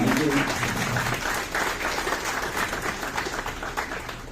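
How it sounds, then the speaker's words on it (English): Audience applause at a legal talk on tax and securities laws fills the whole stretch, a steady dense wash of clapping at close range that holds level throughout. "I would request a loud round of applause,"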